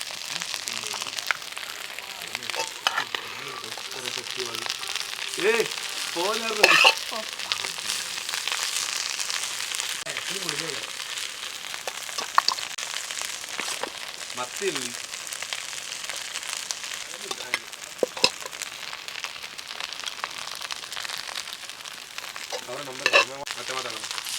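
Chopped onion and cashew nuts frying in a pan for a jackfruit biryani, a steady loud sizzle throughout, with stirring clinks and scrapes and a voice talking at intervals over the frying.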